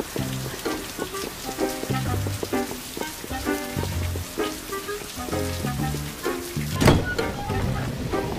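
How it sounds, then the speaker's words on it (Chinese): Heavy rain falls steadily as a dense, hissing wash with scattered thuds and a louder burst near the end, while background music plays throughout. "哎呀，那个下雨了，下雨了。"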